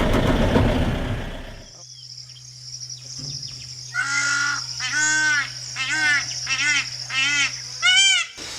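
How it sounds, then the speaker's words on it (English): A peacock calls at a Sri Lankan wildlife site. After a brief noisy start and a low steady hum, a run of about five loud, wailing, harmonic calls repeats in quick succession. "That's the peacock sound."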